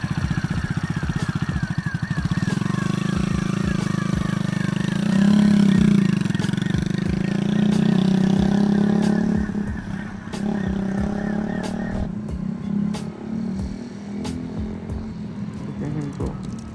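A Kawasaki Z125 motorcycle ridden by a learner rider, its small engine droning steadily and rising in pitch through the middle before easing off, with clattering and some talk in the background.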